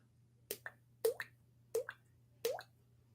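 Four separate water droplets plop one after another at roughly even intervals, close and clear against a quiet background hum.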